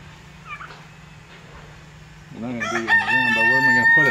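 A rooster crows loudly and close in a farmyard shared with chickens and turkeys, the long wavering call starting midway after a quiet stretch with faint clucking.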